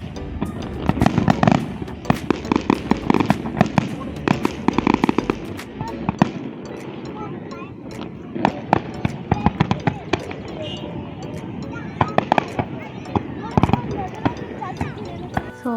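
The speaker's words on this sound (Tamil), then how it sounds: "ஸோ ஃபயர் ஒர்க்ஸ் வந்து ஸ்டார்ட் பண்ண போகிறாங்க" Fireworks exploding at an Eid celebration in Qatar, a run of sharp cracking bangs and crackles with echoing rumble, heard from a distance amid crowd noise and nearby talking.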